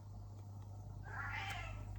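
A single drawn-out cat meow rises midway and trails off, fairly faint over a low steady indoor hum.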